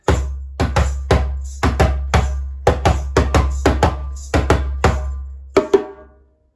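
West African drum break for the Guinean rhythm Niger: a dozen or so sharp, close, booming bass strikes in an uneven rhythmic pattern, ending with two brighter tone hits, with no speech.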